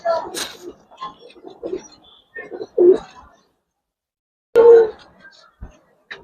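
Giribaz pigeons, coloring and silver birds, coo in short throaty bursts close by at a pigeon market, with several calls spaced across the stretch and someone talking between them.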